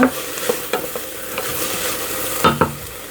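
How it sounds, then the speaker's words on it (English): Vegetables sautéing in a pan for a Southern cornbread stuffing, sizzling steadily while a spoon stirs with intermittent scrapes and knocks against the pan. "So we're just going to keep this sauteing in this pan"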